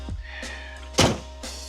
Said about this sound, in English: Doors don't shut like the 80s.